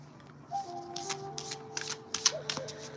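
Tarot cards are shuffled and drawn up close, with a run of quick papery riffles and snaps over a faint background hum and no voices.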